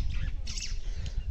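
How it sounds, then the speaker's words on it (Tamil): Birds calling in Nachola village in Turkana, Kenya, a couple of brief squawking calls over a low outdoor rumble, heard at a moderate distance. "பறவையோட சத்தம் உங்களுக்கு கேட்டிருக்கோம்னு நினைக்கிறேன்"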